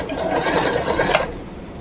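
A Usha Janome Wonder Stitch sewing machine stitches in a brief, close, steady run of rapid mechanical clatter with a whirring motor underneath.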